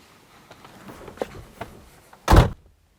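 A frameless door on an Opel Manta B2 16v shuts with a single loud, solid thunk near the end, following quieter handling knocks and rattles.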